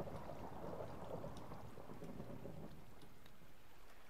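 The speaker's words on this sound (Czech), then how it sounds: "Bouřka tady pod zemí, jo." Rumbling thunderstorm with rain heard from underground in Minecraft, a faint, muffled, continuous wash of low rumble and patter with no talk.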